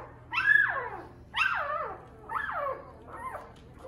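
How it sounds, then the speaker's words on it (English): A dog gives four separate barks with falling, whiny tones, each spaced about a second apart, moderately close in a quiet room. "That's her barking at me"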